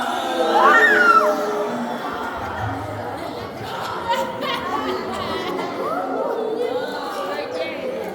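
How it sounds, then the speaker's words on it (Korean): Youth campers at a church youth camp all shout and call out together in a loud, sustained crowd noise, with a scream-like rise near the start and scattered chatter and laughter. "It sounds like a scream, almost."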